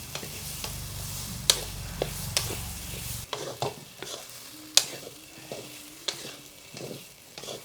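Soya chunks fry in oil while being stirred, a steady sizzle broken by sharp clacks of the spoon against the pan, the hiss easing after a few seconds and leaving separate scraping strokes close by.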